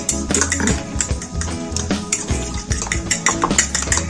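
Spoon stirring dried mint into a vegetable sandwich filling in a bowl, rapid repeated scraping and clinking strokes close up, with no talking.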